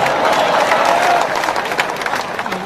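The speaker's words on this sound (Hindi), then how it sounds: "ठोको ठोको ताली ठोको।" An audience applauds loudly at a political speech, with dense clapping and crowd noise that is sustained throughout and mixed with a faint murmur of voices.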